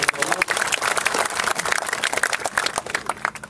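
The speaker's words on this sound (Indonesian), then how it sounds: "tepuk tangan untuk para founder dan leader kita yang ada di belakang" Applause from a seminar audience greeting the founders and leaders: dense, steady clapping from a crowd filling the whole stretch, fairly loud and without pause.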